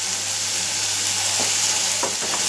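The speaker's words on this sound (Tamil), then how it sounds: "கொஞ்சம் போல் கருவேப்பிலை அதையும் போட்டுக்கிறேன்" Curry leaves crackling and sizzling as they sauté in hot oil with onion, a continuous near hiss with a couple of brief spatula scrapes near the end, no voices.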